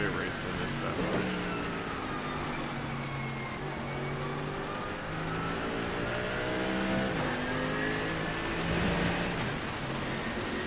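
Heavy rain pours steadily in a Daytona racing video game, a dense continuous hiss with a car engine droning underneath in layered, shifting tones throughout.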